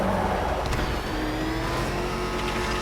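A race car engine in Batman: Arkham Knight drones loud and steady, holding a sustained revving whine with a slight pitch rise and hints of tire noise, continuous throughout and close up, with no voices.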